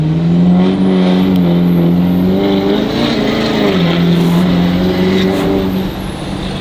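A 1000HP dually tow truck engine idles while warming up, a loud, close, deep rumble with a steady low drone that dips and rises slightly in pitch over time.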